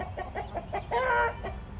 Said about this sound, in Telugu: ఇవన్నీ మా కోళ్ళు.